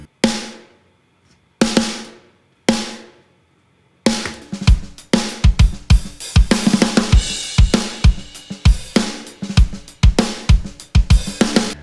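Three isolated drum hits ring out with long decays, then a layered, blended drum kit pattern plays a steady driving beat with punchy snare and kick.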